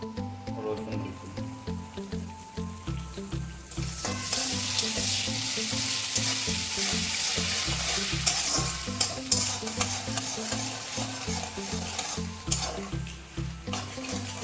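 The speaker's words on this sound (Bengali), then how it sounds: "আদা রসুনটা মোটামুটি ভাজা হয়ে যাচ্ছে।" Chopped ginger and garlic fry in a pan with carrots, with a steady sizzle that swells after a few seconds. Repeated scraping and stirring knocks run throughout, close and fairly loud.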